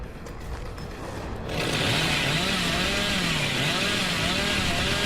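A chainsaw in the video game Dead by Daylight starts after a quiet moment and keeps running loud and close, its engine whine rising and falling in pitch with no voices over it.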